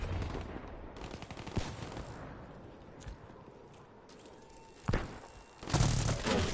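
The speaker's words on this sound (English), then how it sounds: "Wow, I shot him." Gunfire in the video game Black Ops 3, with scattered bursts and shots that grow loudest in short clusters near the end, over a busy game soundscape.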